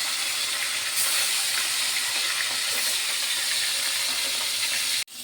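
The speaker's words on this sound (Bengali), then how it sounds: "অল্প তেলে ভোলা মাছ ভাজতে হয়।" Bhola fish frying in a small amount of oil in a home kitchen, giving a steady broadband sizzle and hiss throughout, ending with a sharp clunk.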